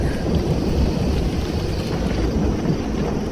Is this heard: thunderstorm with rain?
yes